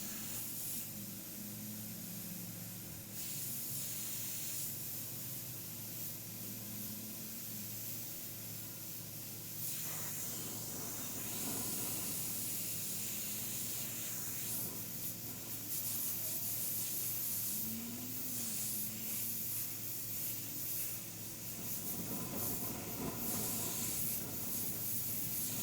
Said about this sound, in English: pulling back and forth on that trigger, keeping the air press down all times to reduce my tip drying